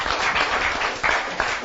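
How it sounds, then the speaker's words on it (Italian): An audience at an Italian public talk event applauds with a dense, steady wash of clapping. It holds for under two seconds with slight swells and no voices over it. "un applauso per e lo dimostra"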